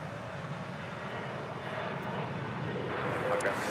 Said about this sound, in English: Coming in from Minneapolis, Sun Country Airlines Flight 427 and the 737-800.